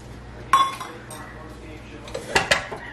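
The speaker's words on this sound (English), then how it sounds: "And we're going to stir it in" Flour being stirred into fat in a cooking pot: a few sharp metallic clinks and scrapes of a utensil against the pot, two clusters of knocks over quiet kitchen background.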